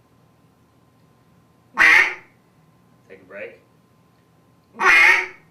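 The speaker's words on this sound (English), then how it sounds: "the best thing for you guys to practice if you're just starting out is one single quack" Two loud, single quacks are blown on a duck call, well apart with silence between them, and a brief spoken phrase falls in the gap.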